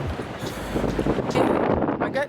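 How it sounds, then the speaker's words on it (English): Wind buffets the microphone outdoors on a blustery day, a low rumbling roar that swells and gusts steadily throughout. "It is quite windy."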